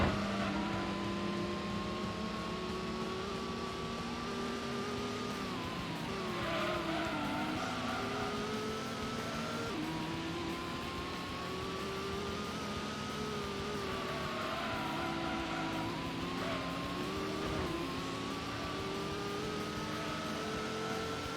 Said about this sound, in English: Oh, and there goes the Corvette again.